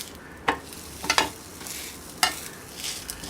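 Ragi roti frying in a little oil in a pan, with sharp clicks and scrapes of the roti being turned over a soft steady sizzle, fairly close and without talk.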